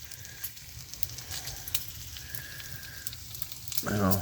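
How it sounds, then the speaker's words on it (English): Wood fire burning inside a small tent stove with a makeshift titanium chimney, crackling and popping in scattered sharp snaps over a low rumble, ending in a brief louder knock. "Fire's going good. Stove's not a bad little stove."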